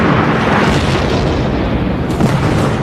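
A truck blown up in a large explosion test, heard as a loud, sustained roaring blast with dense rumbling low end filling the whole stretch.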